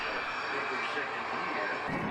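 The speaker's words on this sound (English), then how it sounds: "the first Avalon appearance of an unusual aircraft, a Kawasaki C-2 from the Japanese Self-Defense Force" Kawasaki C-2 military transport jet of the Japanese Self-Defense Force flying at the Australian International Airshow 2019 at Avalon, a steady, loud, broad engine roar that holds evenly throughout.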